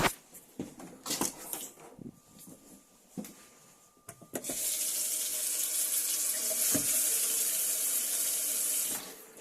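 Water gushes from a caravan tap in an Elddis Affinity 550 as air is purged from the system, starting with a few clunks and knocks, then a steady loud hiss of running water that continues and then stops.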